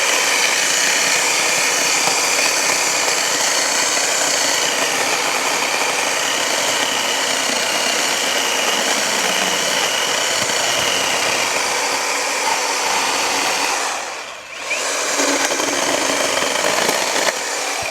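Japer battery-powered mini saw with a brushless motor cutting wood, a loud steady whine running nearly continuously, with a brief dip before the cutting resumes.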